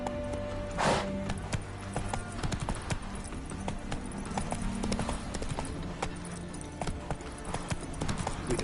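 Roach the horse walking in The Witcher III, hooves clopping in a steady, close rhythm over constant game ambience, with a brief whinny-like sound near the start.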